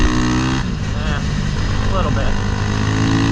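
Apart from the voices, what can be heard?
Honda Grom motorcycle with CBR300R engine accelerating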